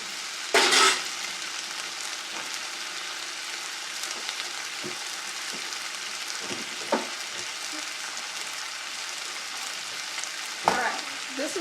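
Potatoes fry in a pan under a constant, close hiss, with a sharp scrape and clatter of stirring near the start, occasional soft knocks, and another stir toward the end.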